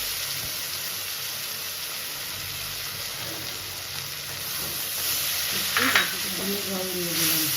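Onion with poppy seed paste frying in a pan for Bengali chingri posto, a steady close sizzle with stirring scrapes and a brief clatter near the end, and no talk over it.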